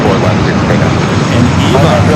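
A Boeing 737-800 jet airliner arriving at LAX from Seattle, a loud continuous broadband engine roar with no distinct pauses, heard close and steady while a voice talks over it.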